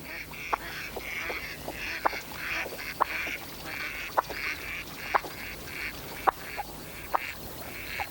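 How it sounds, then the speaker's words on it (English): A flock of wild ducks in a marsh, widgeon, pintail and teal, quacking and calling repeatedly, with sharp calls standing out over a steady chatter of the flock at middle distance. "The flocks include widgeon, along with pintail and teal."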